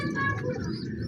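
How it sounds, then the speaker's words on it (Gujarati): Pigeons perched in a large mesh enclosure give soft, close, throaty coos over a faint background murmur. "બધાય કબૂતર બેસે છે આનામાં"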